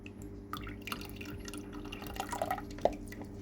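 Thick AF Life Source liquid dripping and splashing as it is poured into the rear chamber of a Max Nano aquarium, faint close trickles and drips over steady background hum, with one sharper drop near the end.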